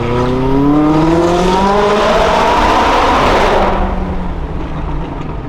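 A McLaren 570S engine winds up in a long, loud pull with climbing harmonics, then cuts off abruptly into a lower rumble, heard up close.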